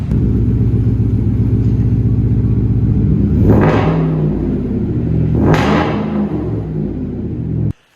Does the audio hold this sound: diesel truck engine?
yes